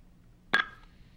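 A single short telephone dialing tone sounds on a radio call-in line, a brief clear beep that fades quickly against near silence.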